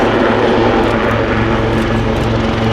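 Westland Wildcat helicopter climbing and turning at an air show, a loud, steady near rotor and engine roar that holds throughout with a faint rhythmic rotor beat underneath.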